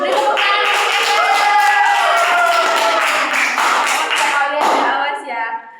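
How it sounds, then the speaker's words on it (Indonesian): A classroom of students applauds for a classmate named Eva, giving a loud, close burst of dense clapping that lasts several seconds before tapering off, with a few voices mixed in. "Beri tepuk tangan untuk Eva."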